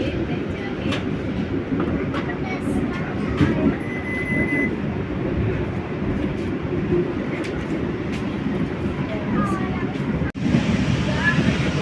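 Interior of a moving Batavia train dining car, a continuous low rumbling roll with faint rhythmic clatter and occasional clicks, with people talking quietly beneath.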